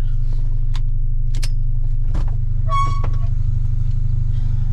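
A car engine idles with a steady low rumble throughout, with a few faint clicks and a brief tone over it.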